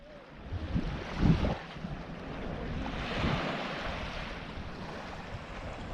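Steady wash of sea surf and wind on a Spanish beach in December, broad and continuous with gusty rumble against the microphone, swelling briefly a couple of times.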